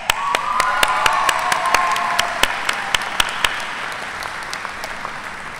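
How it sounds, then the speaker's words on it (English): Steady applause from the audience at an engineering degree ceremony, a dense wash of many hands clapping with a few sharper nearby claps standing out, holding strong and then easing slightly toward the end. "Can we get a round of applause for Marv Harris for cooking us the best meal"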